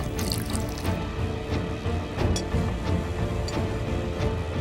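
Milk is poured into semolina, a close liquid splashing and trickling with small drips and irregular bursts, running continuously against a faint tonal background.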